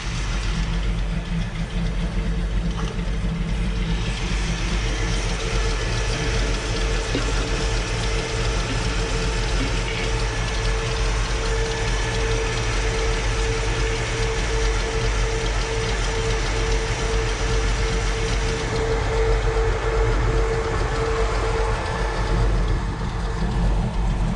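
A 1986 GMC utility truck engine idles steadily for a long stretch on a new fuel tank, a low, even rumble with a faint mechanical hum and no talking.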